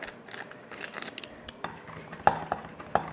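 Wire whisk stirring Jell-O powder into boiling water in a bowl, a quiet scraping and clinking against the bowl with a few sharper taps toward the end, no talking.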